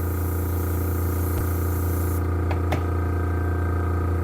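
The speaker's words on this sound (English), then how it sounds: "that's why I like the spray paint" An airbrush spray paint hiss while painting a scale model, steady and continuous over a constant background hum, with a couple of brief clicks and no talk.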